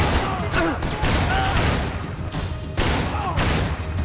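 Shotgun blasts and scattered gunfire in the video game Max Payne 3, loud close booms repeating amid a dense, chaotic firefight, with voices briefly mixed in.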